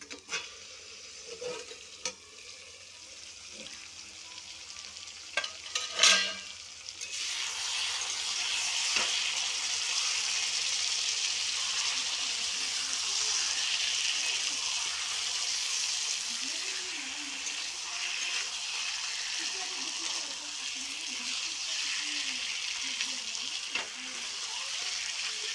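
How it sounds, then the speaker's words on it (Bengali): Chicken frying in spices is uncovered and stirred in a pan: a few clanks and scrapes at first, then a steady loud sizzle with bubbling and stirring noises continuing close by, with no talking. "এবার আমি ঢাকনাটা খুলে একবার ভালো করে নেড়ে চেড়ে দেব।"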